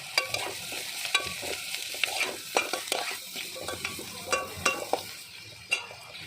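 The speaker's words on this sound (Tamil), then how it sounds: "எண்ணெயில் ஒரு கிளறு கிளறிட்டு காய் சேர்த்துக்கலாம்." A spoon stirs and scrapes through bitter gourd and chili powder frying in oil in a pan. Repeated close scraping strokes sit over a constant crackling sizzle, with no talking.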